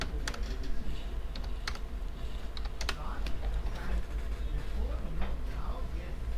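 Numbers are typed on a computer keyboard and the enter key is pressed, giving quick, close clicks and taps in short irregular runs while someone talks over them.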